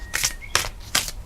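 Tarot cards being shuffled by hand in three quick, crisp riffling bursts separated by short pauses, close and moderately loud in a quiet room.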